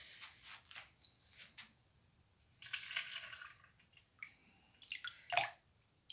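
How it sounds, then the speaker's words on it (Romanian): Cold salt brine poured over cucumbers for traditional pickling, heard as close, intermittent splashing and trickling bursts separated by quiet pauses, fairly faint overall. "voi pune saramura să treacă peste castraveți"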